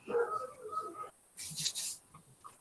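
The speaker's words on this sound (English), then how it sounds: "Oh, my dog is outside howling." A dog outside makes a short run of drawn-out whining howl tones, then after a brief pause a few breathy, muffled yips and whimpers, moderately close but not loud, with no talking over it.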